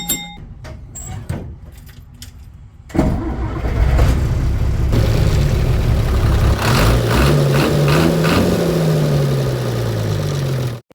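A 2003 Leyland bus engine clicks and cranks, then fires up loudly after a few seconds, settling into a rough diesel idle before revving with rising and falling pitch up close.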